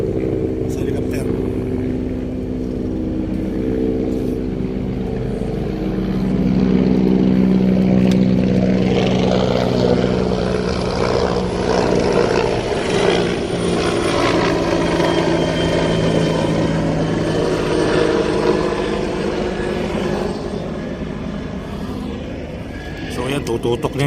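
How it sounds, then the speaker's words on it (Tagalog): A helicopter flies over a coastal reclamation area, its steady rotor and engine drone swelling and fading across some twenty seconds, with indistinct voices and wind noise mixed in. "Yung isa naman helicopter."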